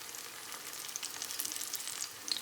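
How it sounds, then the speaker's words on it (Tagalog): Turon banana rolls sizzle in caramelized sugar in a pan, a faint, steady crackling fry with no voices. "nagkaramel na yung asukal, saka nyo po ilalagay yung turon para hindi po siya masunog"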